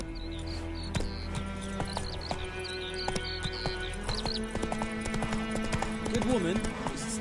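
Hooves of the horse Roach galloping in The Witcher 3, a steady clip-clop rhythm close by, mixed with game music and ambience, while a voice talks over it.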